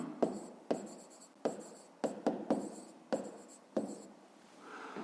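Pen writing on paper while a math exercise is worked out, a series of short scratchy strokes with small taps between them, close and quiet, no talking.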